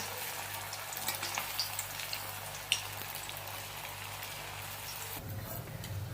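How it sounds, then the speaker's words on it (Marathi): Kothimbir (coriander) vadi fry in hot oil, giving a steady, soft sizzle and crackle close up. Near the end the pitch of the sizzle shifts slightly, and no one speaks. "मी इकडं तेल तापायला ठेवलेलं आहे तिकडे आता तळून घेऊया आपण आपली वडी तळून घेऊया"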